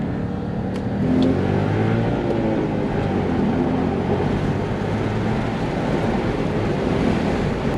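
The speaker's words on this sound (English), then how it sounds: "this car is so fast and it's so easy for it to get going fast" An Audi S5 V8 manual coupé accelerates hard from inside the cabin, a steady loud engine drone rising in pitch over roughly eight seconds amid road and wind noise, with no talking.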